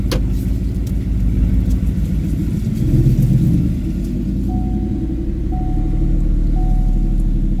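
Ford F150 with a Coyote V8 driving with its muffler and catback removed, a steady deep exhaust rumble heard from inside the cab, swelling briefly under light throttle before settling, with a few faint beeps near the end.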